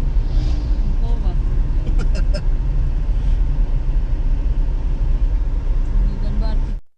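A car engine hums steadily at close range as the vehicle heads down toward a quiet beach near Diveagar, a loud constant drone with a few faint clicks and people talking inside.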